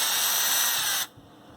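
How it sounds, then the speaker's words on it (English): A power drill drives screws into a mini bike tire for studding, a loud steady whirring burst lasting about a second before cutting off abruptly. "drill them in halfway"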